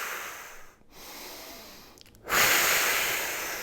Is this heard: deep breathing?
yes